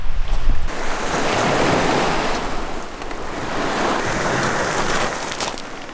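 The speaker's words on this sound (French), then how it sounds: "Alors là, il fait pas très chaud, hein, le vent souffle." Strong wind roaring steadily along the Dead Sea shore in Jordan, a dense, unbroken broadband rush with buffeting against the microphone, loudest in the first half-second and then holding constant throughout without any voices.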